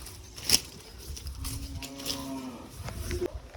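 A cow moos once, a drawn-out low call in the middle of the clip, at an Assamese Goru Bihu cattle festival, with faint outdoor background noise around it.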